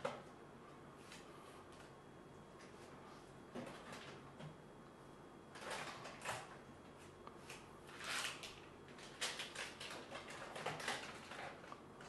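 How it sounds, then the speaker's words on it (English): A kitchen freezer drawer holding boxed grass-fed ribeye steaks slides and clunks, with several faint scraping and knocking bursts spread over the stretch, fairly quiet and without speech. "Does the drawer come out?"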